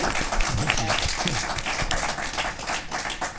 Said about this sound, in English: So let's get one round of applause for everyone.